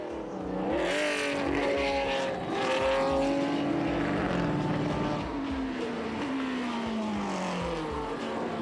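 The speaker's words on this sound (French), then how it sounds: "Nous sommes avec Hervé Poulain dans une hardcar, la voiture peinte par Calder qu'il avait pilotée en 1975" A vintage BMW art car painted by Calder, racing at Le Mans Classic 2006, roars loudly and steadily nearby, its engine note climbing and falling through gear changes over several seconds.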